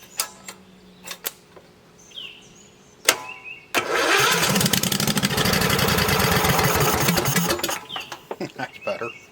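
A Briggs & Stratton V-twin Vanguard engine that is smoking: a few sputtering clicks and a cranking attempt, then it catches and revs loudly under throttle for about four seconds before dropping back to scattered clatter.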